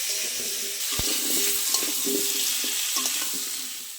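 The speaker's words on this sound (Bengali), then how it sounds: "কুমড়ো আর আলু আবার একটু ভালো করে ভেজে নেব।" Steady frying sizzle of potato and pumpkin pieces in a pan, with occasional clinks and scraping of a spatula stirring the food.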